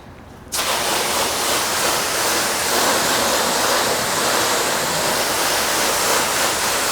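Water spraying onto a car panel during a paint sealant test, a loud, dense, continuous hiss and patter that starts abruptly and holds steady, close up with no talk.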